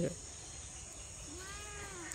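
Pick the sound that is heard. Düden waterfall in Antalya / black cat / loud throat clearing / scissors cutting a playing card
black cat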